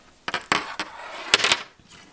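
Scissors snip a yarn tail during knitting, producing a few sharp metallic clicks and snips in quick irregular succession, close and fairly quiet.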